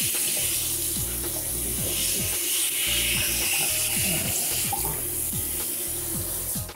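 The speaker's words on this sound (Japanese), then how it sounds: "排水口の周りも洗っていきます" Water runs steadily around a bathtub drain while it is scrubbed clean with Domestos, a continuous close splashing hiss broken by a quick series of regular scrubbing strokes.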